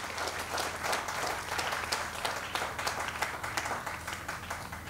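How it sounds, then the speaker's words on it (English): An audience at an Emancipation service in the Virgin Islands claps in sustained, dense applause, many hands close and loud for the full few seconds with no voices. "Give them a round of applause."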